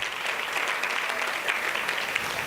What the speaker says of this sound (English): Please give our Premier a big round of applause.